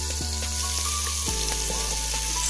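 Chopped garlic, chili and onion frying in butter in a pan, an even, steady sizzle over a low background hum with faint tonal noise, no voices.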